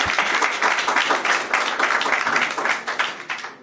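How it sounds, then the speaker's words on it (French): A crowd at a public ceremony for a reopened hospital applauds, brisk overlapping clapping that runs steadily and thins toward the end. "Je vous prie de les applaudir, s'il vous plaît."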